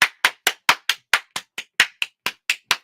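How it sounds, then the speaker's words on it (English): Hands clap about thirteen times in a steady, even rhythm, each clap sharp, crisp and close, with silence between claps and no other sound. "Everybody clap your hands."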